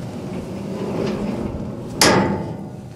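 Door on the end of a metal shop tool box, 12 inches wide and 18 inches tall: a low hum of handling, then one sharp metallic clack as it opens, close and loud, fading quickly.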